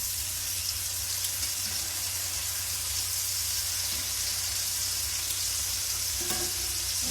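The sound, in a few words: pork cutlets frying in butter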